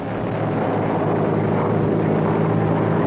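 Propeller engines of World War II fighter planes drone steadily and loudly throughout, a continuous low roar with no pauses and no talk.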